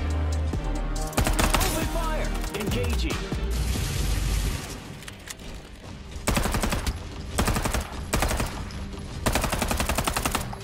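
Loud automatic gunfire in Farlight 84 rattles in repeated dense bursts with pauses between, layered with game effects and a player talking over the action.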